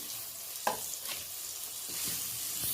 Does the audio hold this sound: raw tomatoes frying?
yes